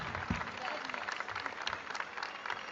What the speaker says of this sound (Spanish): Fuerte el aplauso para esta niña.